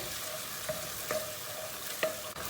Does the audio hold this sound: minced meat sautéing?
yes